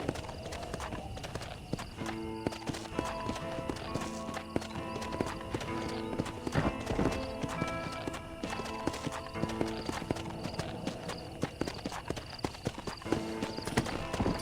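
Horse hooves clip-clopping at a steady trot in the western video game Red Dead Redemption, a continuous rhythm of dull thuds over game music with an occasional whinny.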